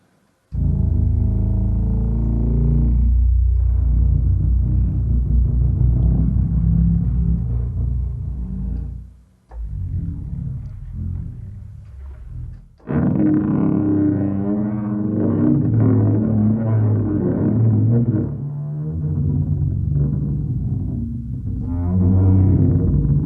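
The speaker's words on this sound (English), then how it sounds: "And let's look at the taikos." Taiko drums from the Superball Kontakt instrument by Sonixinema pound out deep, booming hits with long resonant rumbles, loud and close, in two sustained passages separated by a short drop near the middle.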